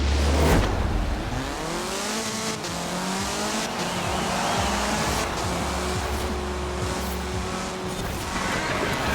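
Racing car engines roar in Forza Horizon 4, a loud continuous engine drone with rising and falling revs as the cars accelerate and shift, plus brief tire squeal, with no talking over it.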